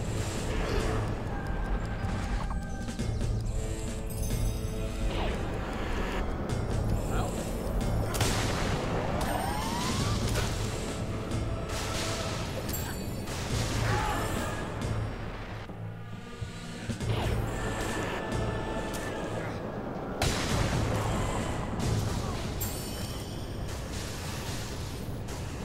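A barrage of booms and crashes from a catastrophic destruction spell in the Fable video game, dense and loud for the whole stretch, with repeated blasts layered over one another.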